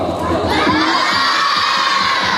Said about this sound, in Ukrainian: дівчата голосно кричать «Баба!»